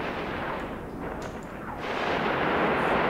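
Sustained rumbling weapons fire in the sci-fi space game EVE Online during low-security solo PvP combat, a dense continuous barrage that swells louder toward the end, with no talking.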